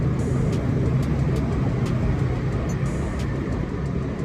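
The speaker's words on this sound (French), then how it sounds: "Il y a tellement de voitures qui passent et il y a tellement de bruit" Heavy road traffic in Hanoi's old quarter makes a dense, continuous roar of car and motorbike engines, loud and close, with faint higher horn-like tones poking through the steady wash.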